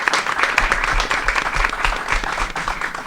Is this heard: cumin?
no